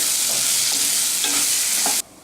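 A pea mixture with cumin fries in hot oil and gets stirred, a loud, dense, continuous sizzle with faint scraping that cuts off abruptly near the end, leaving quiet room tone; nobody speaks.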